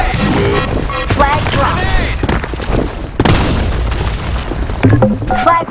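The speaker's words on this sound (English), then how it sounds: "Fire in the hole! Grenade!" A grenade blast in a capture-the-flag video game, a dense booming roar filling the short scene amid game sounds, with a voice line heard briefly.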